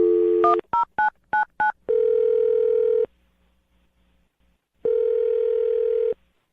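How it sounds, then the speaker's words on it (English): Telephone keypad tones as a number is dialed: a quick run of short, crisp beeps, followed by two long, steady ringback tones separated by a pause of silence. "I'll dial the phone number right now"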